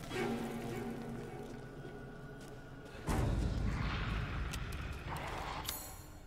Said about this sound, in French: Une pipe bombe!